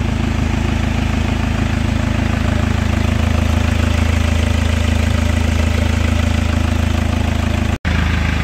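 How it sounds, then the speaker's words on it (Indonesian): Chevrolet Captiva diesel engine idling after restarting from a year and a half of sitting unused, a loud, steady low rumble close up, with a brief dropout near the end. "kita biarkan dulu mesinnya nyala 10 sampai 15 menit"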